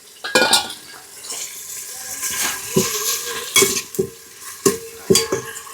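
Onions fry in a pan for a bottle gourd curry, a soft sizzle broken up by several bright clinks and scrapes of a utensil against the metal, close and fairly loud, with no talking.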